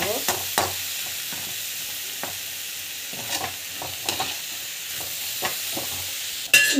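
Food sautéing in a pan with a soft continuous sizzle and regular spoon scrapes and taps stirring it, close and fairly quiet, ending with a louder clack.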